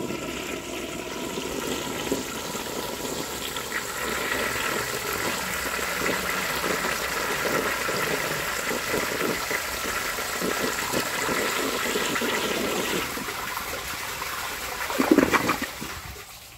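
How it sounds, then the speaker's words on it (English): A 1953 Crane Santon toilet flushes with a long, steady rush of water lasting many seconds, then a brief louder gurgling surge near the end before it trails off. "But let's see how it flushes."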